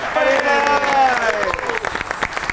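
Studio audience applauding on a Pakistani music and comedy variety show as a singer is introduced, dense clapping that thins out toward the end, with musical tones and a voice running over it.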